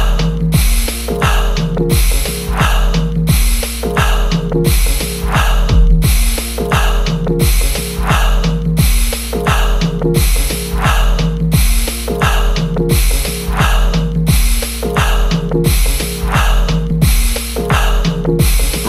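Rapid, forceful rhythmic breaths of an alkaline breathing exercise, a steady train of sharp nasal puffs repeating about every second across the whole stretch, loud and close with a faint low hum beneath.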